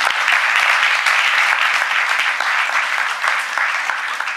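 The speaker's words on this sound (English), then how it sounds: "So give them a big round of applause." A film festival Q&A crowd in Minneapolis breaks into sustained, loud applause, a close, dense patter of many hands clapping steadily with no pause.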